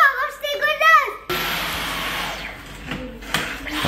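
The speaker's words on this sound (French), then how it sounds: "je passe quand même mieux l'aspirateur que ça." A household vacuum cleaner runs steadily with a loud broadband whine after someone speaks briefly, continuing alone and gradually easing slightly in level.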